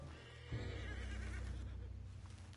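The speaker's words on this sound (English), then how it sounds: "What's wrong with this horse?" A horse in Red Dead Redemption 2 gives one loud, close whinny that rises and wavers for about two seconds over a low background rumble.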